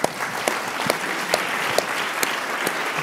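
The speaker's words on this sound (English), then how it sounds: "So hold your applause for these gentlemen." Steady audience applause fills a debate hall on high-speed rail, a dense wash of clapping with a few sharper individual claps standing out, continuous throughout and with no talking.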